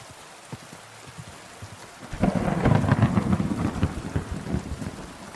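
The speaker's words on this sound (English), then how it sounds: "Realistic thunder sounds." Thunder and rain in the medieval video game Kingdom Come Deliverance 2: quiet rain patters at first, then a deep, rolling thunderclap swells and rumbles for several seconds over the continuing downpour.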